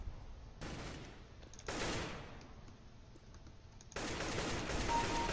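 Counter-Strike: Global Offensive gunfire, three bursts of automatic shots over a constant game background, moderately loud and with no voices.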